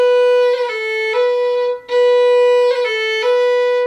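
Fiddle playing a phrase of the traditional Scottish air Skye Boat Song, with waterfall grace notes between the first finger and the open string; sustained bright bowed notes with quick ornamental flicks, loud and close, alone.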